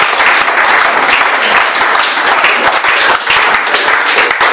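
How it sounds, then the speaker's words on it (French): A church congregation bursts into sustained applause during a worship service, dense steady clapping filling the room for several seconds without a break. "Est-ce qu'on peut acclamer pour la gloire de Dieu?"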